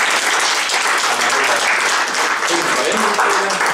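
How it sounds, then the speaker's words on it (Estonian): Audience at an Estonian museum club talk applauds steadily and loudly throughout, a dense wash of many hands clapping with no pauses. "teeme tugevalt aplausi"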